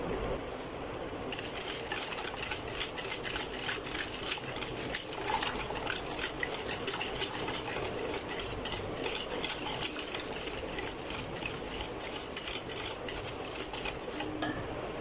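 Continuous spoon-and-bowl stirring of sugar into a creamy fruit salad dressing, a steady busy scraping and light clinking that runs the whole time at moderate level with no voice.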